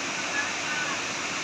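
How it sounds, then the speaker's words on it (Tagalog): Steady, loud rush of water pouring down Hinguiwin Falls in Padre Burgos, Quezon, swollen after recent rain; a dense, unbroken roar fills the whole stretch without pause. "Naririnig nyo ba ang napaka-relaxing na tunog ng bagsak ng falls ng mga tubig"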